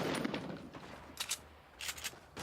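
Gunfire in a Fortnite Fall Skirmish match: a few short bursts of shots crack out at a distance, separated by quieter game ambience.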